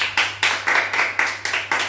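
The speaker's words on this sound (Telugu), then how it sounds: "క్లాప్స్ కొట్టండి." A small group of children and adults clapping hands at a playful summer game, a series of about seven sharp, close bursts of claps coming in a steady rhythm over roughly two seconds, with no talk.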